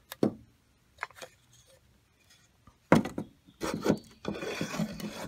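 Wood-and-wax scraping as old beehive frames are cleaned of wax and propolis, with a few isolated rasping strokes early, then denser, louder scraping and rubbing bursts near the end.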